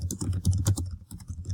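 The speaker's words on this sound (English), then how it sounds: "you'll notice as I type" Quick, close typing on a computer keyboard, with a short burst of light irregular key clicks and no speech.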